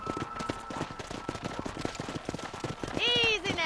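Rapid clip-clop of horse hooves in Red Dead Redemption, close and busy, ending in a loud high whinny near the finish.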